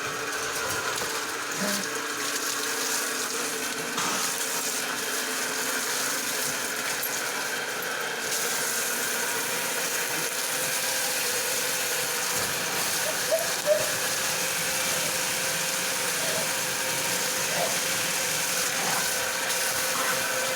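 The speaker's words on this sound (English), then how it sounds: "I will show you the the power of the 1 HP pump output from the tank" A 1 HP electric water pump runs steadily, pushing water out of a tank into a river-fed well bypass setup, giving a continuous mechanical whir with gushing water for about twenty seconds, no talking.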